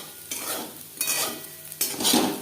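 Okra and potatoes fry in a pan over high to medium flame while a utensil stirs them, with three distinct scraping strokes over a soft, steady sizzle, close and fairly quiet, no voices.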